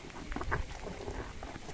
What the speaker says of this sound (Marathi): आणि पाऊस आता बारीक बारीक पडता